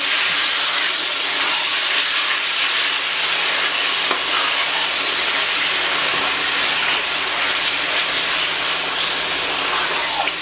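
Half a kilo of chicken cut into long strips frying in a pan over a high flame for Hakka noodles, a loud, dense, continuous sizzle and hiss that runs unbroken throughout.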